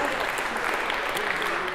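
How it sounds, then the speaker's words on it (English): Steady applause from a lecture audience at Harvard's CS50 class, dense and continuous clapping that fills the whole stretch at an even level. "the crowd went wild for those of you watching from New Haven today with applause"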